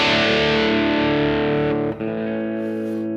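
An electric guitar with a medium crunch setting between clean and distorted plays one loud chord that rings out thick and saturated, briefly choked and re-struck near the end.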